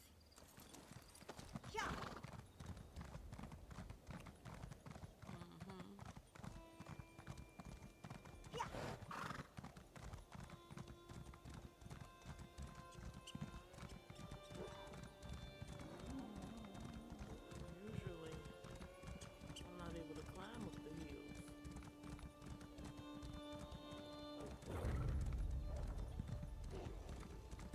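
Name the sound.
horse galloping in Elder Scrolls video game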